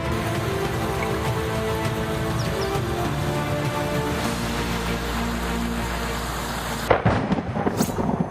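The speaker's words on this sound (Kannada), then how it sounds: "ಪಕ್ಕದ ಮಹಾರಾಷ್ಟ್ರದಲ್ಲಿ ಮಳೆ ಅಬ್ಬರಿಸಿ ಬೊಬ್ಬರಿಯುತ್ತಿದೆ" Heavy rain pours steadily during a thunderstorm in Maharashtra, with dense rushing rainfall throughout and a close crack of thunder near the end.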